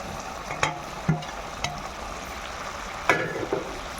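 Fried okra stirred into a simmering gravy in a pan: a low bubbling fry broken by several distinct spoon clanks and scrapes against the metal, irregularly spaced, close and moderately loud, with no talking.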